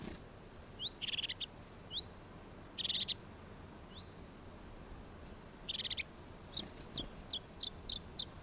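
Chiffchaff giving short, bright chirping calls while feeding on flower nectar, with sharp high notes and brief trilled bursts arriving in irregular clusters over a soft outdoor background.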